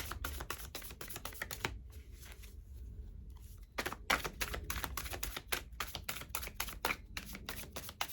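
Tarot cards are shuffled and handled up close in a quiet room, giving rapid crisp riffling bursts and soft card flicks, with a short pause in the middle before the shuffling resumes.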